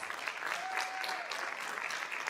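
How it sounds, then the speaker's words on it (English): Faint, steady clapping from an audience at a school district event honoring principals, continuous and somewhat distant with a brief tonal whistle partway through. "Let's give our principals a round of applause."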